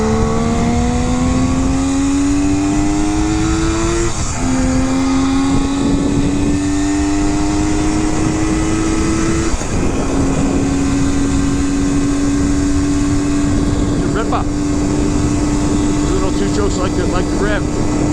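A 1975 Kawasaki S1 250 triple two-stroke engine under way, loud and close, revving up through the gears with clear rising pitch between shifts, a voice talking over the steady wind and engine drone.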